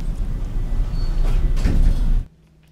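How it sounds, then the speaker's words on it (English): A sliding elevator door in the Roblox game rumbles shut in one steady loud sweep, then cuts off abruptly into near silence. "the door closes"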